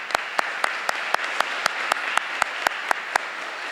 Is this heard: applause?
yes